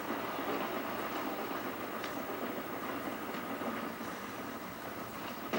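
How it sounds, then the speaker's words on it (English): A train rolls past in a video game, a steady, faint rumbling wash of rail noise with light clattering, heard alone without talk. "the hell is that, a train?"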